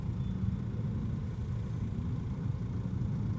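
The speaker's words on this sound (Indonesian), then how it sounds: "Ini banyak bus-bus besar keluar dari ini ya, terminal sekarang ya" Heavy traffic rumble near a bus terminal on the Pantura route, with big buses pulling out; a steady low engine drone, close and continuous, with no talk.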